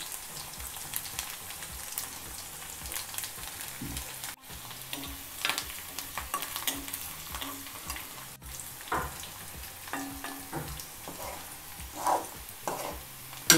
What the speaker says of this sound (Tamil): பூண்டு நல்லா பொரிஞ்சிருச்சு.